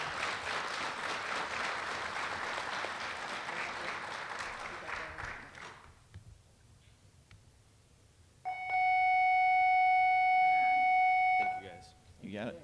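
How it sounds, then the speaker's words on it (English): Applause for recognized students at a school recognition ceremony, steady and fairly loud for about six seconds before fading, then a bright electronic chime tone rings for a few seconds. "Let's give these students a nice round of applause"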